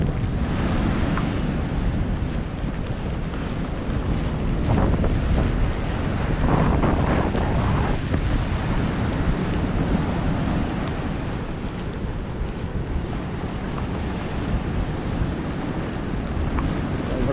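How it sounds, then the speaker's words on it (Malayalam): Strong, constant wind roaring across the microphone by the sea, with surf rumbling underneath; no voices. "ഇപ്പോൾ കടലിൻ്റെ അടുത്ത് വരുമ്പോൾ നല്ല കാറ്റുണ്ട്"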